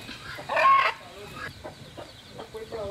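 A rooster clucks outdoors, one louder burst of clucking followed by softer scattered clucks against a steady background hum.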